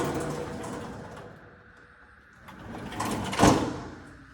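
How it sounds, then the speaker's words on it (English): A trash compactor drawer slides open with a soft rolling rumble, ending in a faint clunk, quiet and nearby in a kitchen. "This is a trash compactor."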